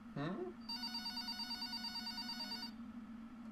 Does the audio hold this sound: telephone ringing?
yes